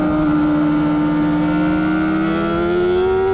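A Honda CBR motorcycle at a track day, its engine holding a loud, steady high-pitched drone with a slowly rising pitch throughout, heard close from the rider's position.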